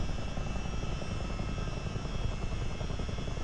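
A CH47D Chinook tandem-rotor helicopter in a flight simulator game lifting off, giving a loud, steady roar of rotors and engines that continues without a break throughout, with no talking.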